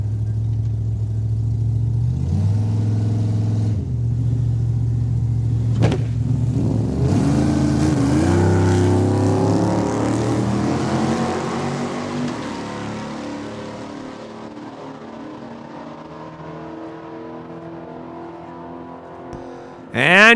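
Drag race cars, an '86 Mustang and a Vega, accelerating hard down a strip at a Saskatchewan raceway, engines rising in pitch through gear changes and fading into the distance, with a loud burst at the very end.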